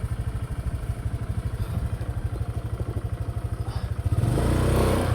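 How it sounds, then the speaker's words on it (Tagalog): Motorcycles heading along a road in the Philippines, a steady rapid engine putter close by for several seconds before a louder, rising rev swells as a bike passes. "Halos yung mga motor mga to papunta doon."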